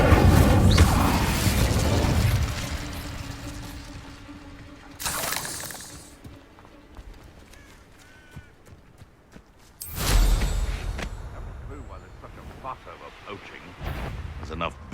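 Spell effects from the Hogwarts Legacy video game, including the Incendio fire spell, burst out in sharp crackling blasts among explosive combat sounds, with a character voice calling out spell names over the clash.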